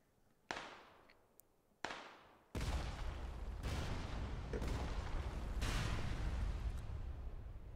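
Explosions from a building being blown up in the PUBG video game: two sharp separate blasts, then a run of heavy booms merging into a loud, sustained rumbling barrage.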